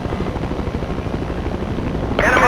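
A helicopter in the game Battlefield 2 gives a loud, steady rotor thrum, with a sharper burst of noise near the end.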